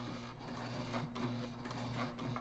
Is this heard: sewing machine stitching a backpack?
yes